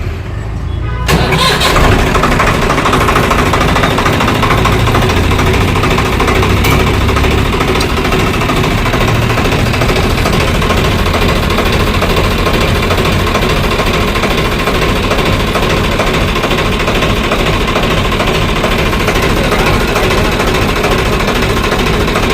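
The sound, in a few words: motorbike engine starting and running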